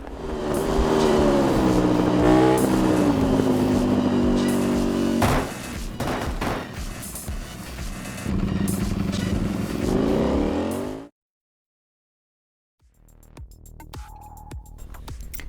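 A motorbike engine in the RiMS Racing video game revs loudly and continuously with rising and falling pitch, cuts to silence near the end, then returns more faintly.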